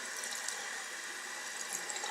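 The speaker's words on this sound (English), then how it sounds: "Then you come back to the water and you rinse your brush off" A makeup brush is rinsed under a running tap, giving a steady hiss of flowing water at close range with faint splashy flickers, heard alone without voices.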